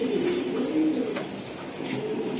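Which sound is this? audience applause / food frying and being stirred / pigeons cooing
pigeons cooing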